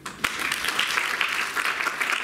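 A church congregation at a summer camp gathering breaks into steady applause, dense clapping from many hands filling the room, with a sharp bright clap near the start and no talking.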